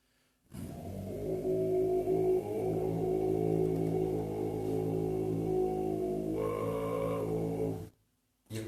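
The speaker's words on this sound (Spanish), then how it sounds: "ellos utilizan solamente una técnica que hace que la voz suene muy grave" A deep, growling vocal drone in the style of Tibetan monk throat singing is held steadily for several seconds, rich in buzzing overtones, then cuts off abruptly.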